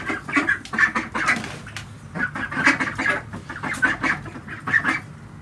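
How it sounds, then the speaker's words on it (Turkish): Repeated nasal quacking and clucking from several ducks nearby in a coop, a busy chorus of short calls with brief pauses. "Burada ördeklerimiz var."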